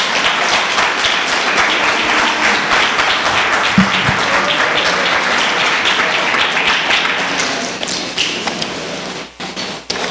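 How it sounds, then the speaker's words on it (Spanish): A church congregation gives the Lord a round of applause, with dense clapping and a few scattered thumps that gradually thin and fade toward the end. "Yo les pido un aplauso al Señor por la vida de mi esposa Tere"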